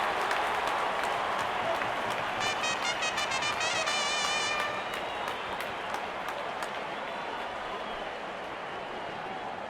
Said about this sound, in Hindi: जब अपोनेंट फैंस भी ताली बजा दे तो समझ जाइए बैटिंग कमाल की हुई